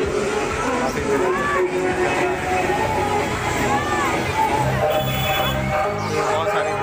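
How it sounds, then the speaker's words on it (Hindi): A busy fairground crowd around boat rides hums with steady babble and chatter, a dense wash of voices close by with people talking throughout. "बहुत सारी भीड़ है"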